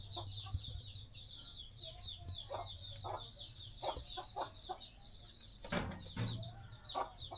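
A chicken clucks in scattered short bursts over a steady high-pitched buzz, with a few louder squawks toward the end.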